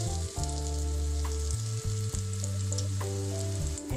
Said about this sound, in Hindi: अब हम एक एक करके कोटेड मिर्च डाल देंगे